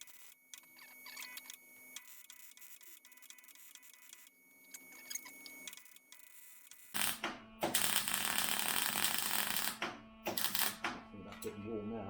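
An arc welder crackles and buzzes loudly and up close while welding a part onto a 1971 Range Rover. It comes in bursts after an earlier stretch of quieter shop sound, and someone talks nearby.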